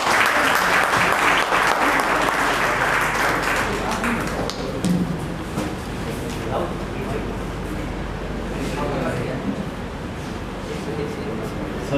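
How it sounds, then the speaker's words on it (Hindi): An audience applauds at a welcoming ceremony, loud dense clapping at first that thins out and fades to lighter scattered claps after about four seconds. "हम स्वागत करते हैं तालियां बजाकर"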